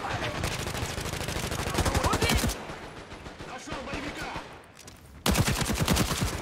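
Rapid automatic gunfire from a weapon in the video game Caliber, a loud close burst, then a short lull with quieter shots, then firing resumes just as hard.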